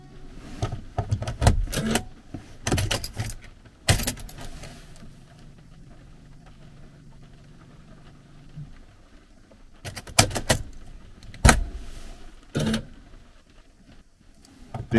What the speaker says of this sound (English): Normally when you insert the key, you hear this noise.